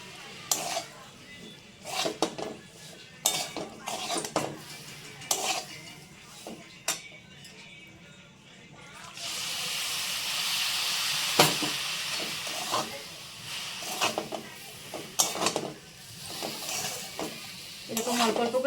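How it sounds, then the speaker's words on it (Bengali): Semolina is added to a pot of cooked vegetables and stirred, giving scraping and clinking of a utensil against the pot over a steady steamy hiss, with intermittent sharp knocks and a louder hissing stretch midway. "এবার আমি ওদের সুজিটা দিয়ে দিচ্ছি।"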